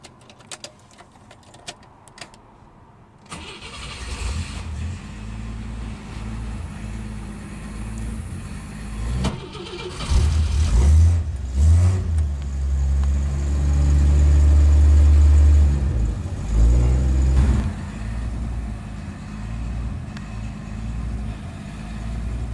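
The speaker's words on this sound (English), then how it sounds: "let's go ahead and start up that old straight six" A 1965 Rambler American's straight-six engine cranks and starts, faint clicks giving way to uneven sputtering that builds into a louder, rough-running idle, close by with no talk.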